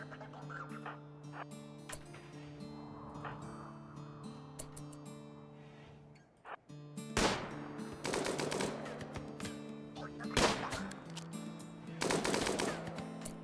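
Rifle gunfire in RimWorld, scattered sharp shots with louder bursts toward the end, set against a sustained tonal music bed.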